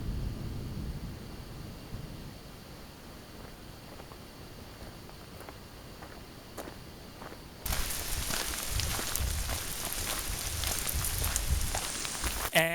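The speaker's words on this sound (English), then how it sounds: "But not raining hard at all, just a little sprinkle for now." Light rain sprinkles on a wilderness campsite, soft steady patter at first, then a louder, denser wash of drops on a nearby surface for the last several seconds.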